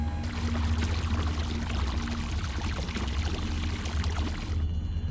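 Water gushes like a waterfall in the horror video game Revenge of the Colon, a loud continuous rushing pour filling nearly the whole stretch before cutting off at the end, with no talk.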